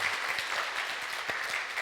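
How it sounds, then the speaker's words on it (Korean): Church congregation clapping together during a Sunday worship service, a dense steady applause filling the room for a short moment with no talk over it. "우리 힘차게 박수 한번 하겠습니다."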